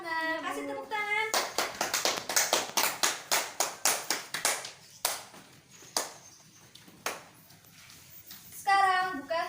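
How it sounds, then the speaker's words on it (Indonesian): A third-grade class claps together in a rhythmic burst of sharp, evenly spaced hand claps that slows and thins out, with a teacher's voice speaking before and after. "Kasih tepuk tangan"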